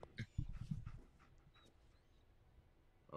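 A dog companion in the video game Fallout 4 pants and whimpers faintly in a few short, quiet bursts near the start, then trails off into near silence.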